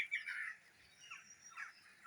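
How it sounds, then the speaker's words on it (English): Wild birds call in the early-morning dawn chorus just after 5:30 a.m., faint outdoor chirps and squawky calls in a few brief phrases over a quiet background. "Just listen to the beautiful birds"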